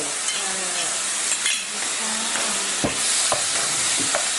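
Pork and onion stir-frying in a pan for a sweet and sour pork dish, a steady close sizzle broken by scraping stirs and occasional utensil clinks against the pan.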